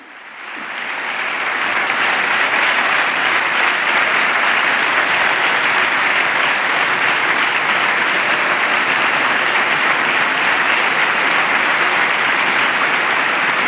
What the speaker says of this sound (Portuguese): E mais uma vez o Papa é aplaudido de pé.